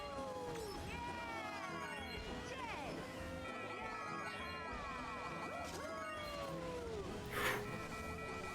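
A cat meows over and over, its drawn-out, rising and falling calls overlapping with voices and a busy background of game noise, with one brief clatter near the end.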